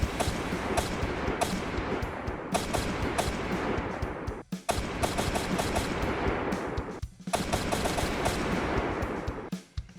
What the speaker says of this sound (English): I found this gunshot clip online